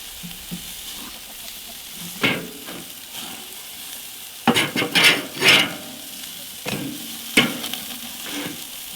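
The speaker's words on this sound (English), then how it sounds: "I don't mind a little flare, get a little char on the outside of that burger's kind of yummy." A burger sizzles and fries on a grill, a steady low hiss of fat broken by a few louder crackles and pops, with no talking.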